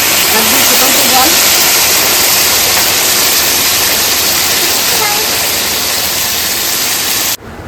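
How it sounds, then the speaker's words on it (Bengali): Boiling water pours steadily in a loud, continuous rushing hiss that lasts about seven seconds before cutting off abruptly, prepared in a home kitchen on a very cold day for a Jamai Shashthi meal in Nadia. "এবার গরম জল দিয়ে দেবে"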